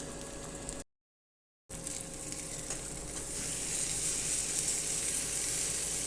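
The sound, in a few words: eggs frying in a pan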